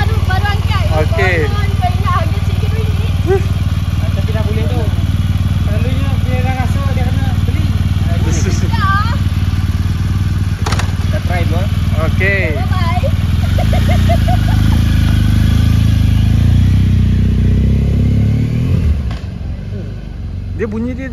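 A 2016 BMW R1200 GS motorcycle engine idles nearby with a steady low rumble throughout, while people talk over it and the idle settles lower near the end.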